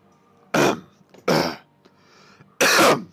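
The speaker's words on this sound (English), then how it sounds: "I'm taking a drink because I'm coughing." A person coughs in three separate, sharp bursts with short pauses between them, close to the microphone, with no talking over the coughs.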